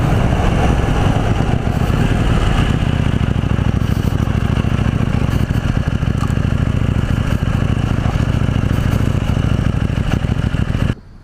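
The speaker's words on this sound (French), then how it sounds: "c'est largement compensé par le bruit du petit pot d'échappement" A 2018 KTM Duke 790 A2 with a twin-cylinder engine and small exhaust runs continuously at a loud, close, steady idle with a throbby note and light mechanical clatter, cutting off at the very end.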